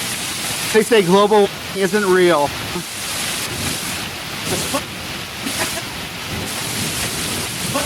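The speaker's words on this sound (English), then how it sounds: "See how much rain we have here. No. Rain and hail." A rain and hail storm in Henderson, Nevada keeps up a steady hiss with scattered rattling hits. A voice speaks briefly over it at the start, then the downpour carries on mostly alone.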